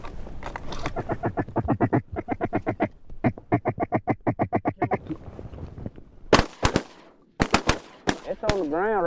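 Ducks quack during a duck hunt in long runs of rapid, nasal calls, some in bursts and some drawn out, followed near the end by several sharp, loud shotgun blasts.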